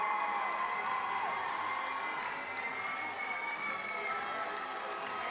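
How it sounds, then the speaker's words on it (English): Spectators at a city youth swim meet in an indoor pool hall make a steady, echoing din of cheering and shouting voices, fairly faint and continuous. "Scoreboard telling the crowd to make some noise."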